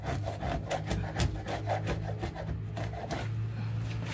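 Wood being worked with a chisel: steady scraping and rubbing strokes in a loose rhythm, close and moderately loud, with no speech.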